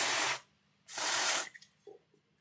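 Cleaner sprays in two short hissing bursts to flush old grease out of the parts of a Tri-ang model train locomotive. Faint clicks and handling sounds follow.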